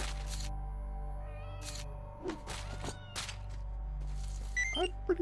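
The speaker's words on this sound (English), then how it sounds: "I'm pretty sure that's a cat." A cat meows faintly in S.T.A.L.K.E.R.: Shadow of Chernobyl gameplay, a few thin, short cries near the end over a constant low background drone and scattered soft thuds.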